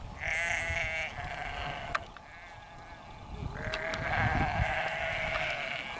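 Sheep bleating on a farm on the Isle of Bute, with several drawn-out wavering calls at moderate distance over a steady outdoor background, and no talking.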